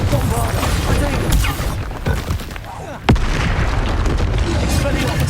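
Bombarda explosion spells and combat effects in the video game Hogwarts Legacy, a dense sustained roar of blasts with a sharp loud burst midway, under busy layered game audio with some voice activity.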